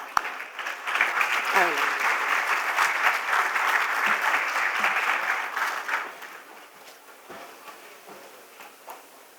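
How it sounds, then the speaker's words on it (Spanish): A conference audience gives a speaker a loud round of applause as she is welcomed to talk on a regional environmental credit market. The clapping swells quickly, stays strong for several seconds, then thins and fades away. "la recibimos con este fuerte aplauso"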